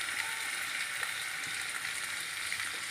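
Onions and capsicum sautéing in a pan for a four-vegetable stir-fry, giving a steady, even sizzle that holds at a constant level throughout with no talking.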